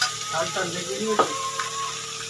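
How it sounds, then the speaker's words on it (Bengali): Potatoes and meat being stir-fried in a pan, with a steady sizzle and scraping spatula strokes close by, loud and continuous over a short stretch. "এই আলু আর মাংস এবার কষে নেবো"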